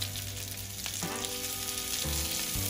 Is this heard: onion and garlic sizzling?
yes